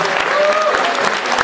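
A concert audience claps loudly and continuously for a theater school and Haifa symphony orchestra performance, dense close applause with a voice speaking over it.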